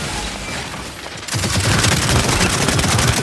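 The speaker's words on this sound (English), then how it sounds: "Stop shooting me!" Dense rapid gunfire in a squad-based shooter game, a continuous loud rattling fusillade that grows heavier after a brief quieter stretch, with no talk over it.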